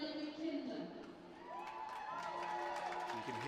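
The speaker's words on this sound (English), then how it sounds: "You can hear the roar from the crowd below us." A crowd roars and cheers at a women's rugby match between Exeter Chiefs and Worcester Warriors after a third Chiefs try, heard from the stands above as a sustained swell of voices with whoops and shouts, under steady commentary.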